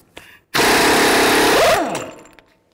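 An impact tool spinning off a Chevy Cruze front axle nut with a 32 mm socket, one loud buzzing, hammering burst of about a second and a quarter that winds down and fades.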